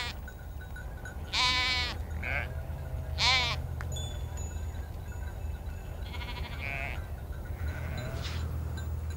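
Sheep bleat in an open pasture, several wavering calls near and farther off over a steady low wind or engine rumble, with no talking.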